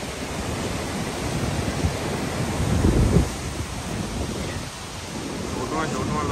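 Roaring wash of Vernal Falls waterfall in Yosemite, a steady broadband rush of falling water with wind buffeting the microphone, swelling briefly midway, with no talk heard.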